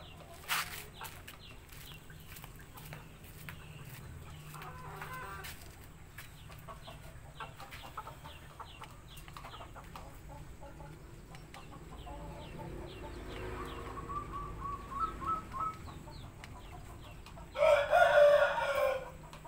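Shamo chickens clucking softly at a distance, with a rooster crowing loudly near the end against a quiet farmyard background.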